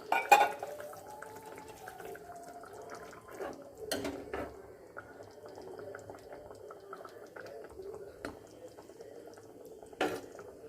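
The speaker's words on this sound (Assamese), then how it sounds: "এতিয়া মই পানী অলপ দি দিছোঁ গৰম পানী অলপ" Hot water goes into a pan of fish and vegetables for a mustard fish curry, a faint, quiet trickle and bubbling broken by a few sharp clinks of utensils against the pan.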